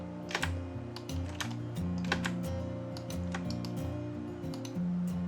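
Keys clacking on a computer keyboard while drafting in Inventor CAD software, a steady run of close, crisp taps with a held modifier key, over a low electronic hum and no talking.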